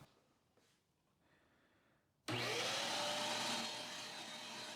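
A Shop-Vac wet/dry vacuum switches on abruptly after a quiet stretch, then roars loud and close with a steady whine as the motor spins up and holds.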